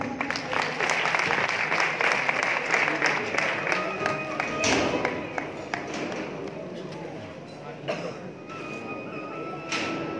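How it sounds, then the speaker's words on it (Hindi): A crowd at a devotional welcome ceremony in Kolkata during a Khatu Shyam pilgrimage bursts into loud, sustained applause. It stays dense and steady for about ten seconds, with sharp claps and shuffling mixed in. "जोरदार तालियों से स्वागत।"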